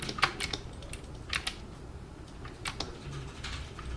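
Scattered clicks from a computer keyboard during 3D sculpting in ZBrush, a few single keypresses and short clusters with pauses between them, close and fairly quiet, with no speech.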